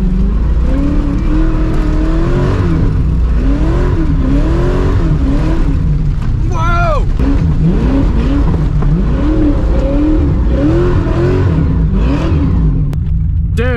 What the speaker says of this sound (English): it's a Corvette driving in the grass on a bumpy field right now.